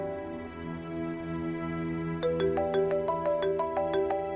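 A mobile phone ringtone starts partway through over a steady musical drone, a bright repeating electronic melody of evenly spaced, close notes.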